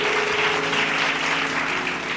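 Audience clapping at a Tamil church service, a dense steady wash of applause holding at an even level for about two seconds with no gaps and no voices heard over it.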